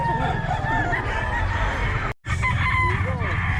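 A Pumpkin Sweater gamefowl rooster crows loudly and continuously at a Bocaue market, with clucking nearby and people talking in the background.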